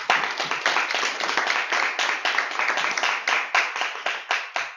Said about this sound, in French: On peut s'applaudir encore une fois.